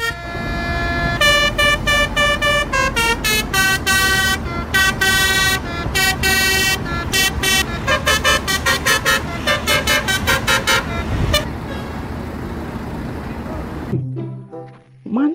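A Garuda Mas bus horn blares loudly in rapid, repeated musical bursts over a rumbling engine as it passes, honking on and off for many seconds before stopping abruptly.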